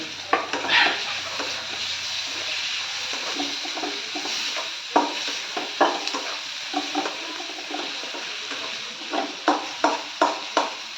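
Onions, tomatoes and green chillies sizzle and fry in a pan while a utensil stirs and scrapes repeatedly, with occasional sharp clicks against the pan; no talking.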